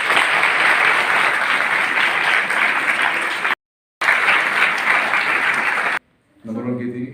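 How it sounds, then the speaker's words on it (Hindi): A school audience of students and teachers applauds at a Pariksha Pe Charcha event, dense sustained clapping that cuts off briefly, resumes, then stops as a voice takes over. "तालियां इनके लिए।"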